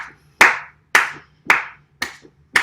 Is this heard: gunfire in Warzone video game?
no